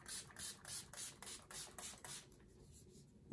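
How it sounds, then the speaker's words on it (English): A quick series of about eight soft spritzes from a setting spray pump onto a face, evenly spaced and fairly quiet, ending in near silence. "let's go ahead and spray this"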